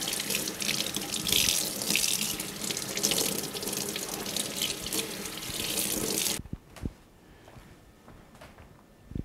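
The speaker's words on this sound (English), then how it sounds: "rinse off the germs from everybody at the farmer's market" A kitchen faucet runs strongly as an aloe vera leaf is rinsed under the stream, a loud steady splashing that cuts off abruptly after about six seconds, followed by a few faint clunks and drips in near silence.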